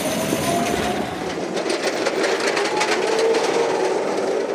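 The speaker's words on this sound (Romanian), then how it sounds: "Cam așa arată cele mai multe tramvaie din Galați." Old tram running through the streets of Galați, Romania, a loud continuous rumble of rail wheels with clickety-clack rhythm and faint squeal, no voices.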